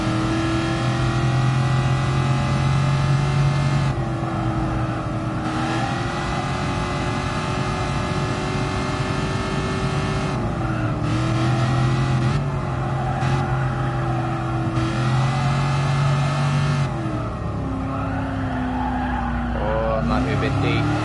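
A Shelby Cobra 427 V8 lapping Goodwood circuit drones loudly and up close. Its pitch rises and falls through acceleration and lifts off the throttle, and bursts of tire squeal run through the continuous engine roar.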